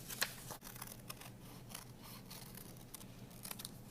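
Scissors snip through paper while a shape is cut out, making a quiet, close series of crisp cuts, with the sharpest snip near the start and lighter ones following.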